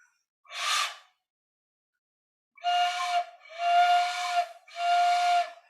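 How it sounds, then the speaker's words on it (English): A homemade PVC pipe bugle blown in four separate bursts: a short breathy puff, a pause, then three longer whistling toots with a clear steady tone, near and fairly loud with silence between. "let me take my PVC bugle and see if the sound is getting produced"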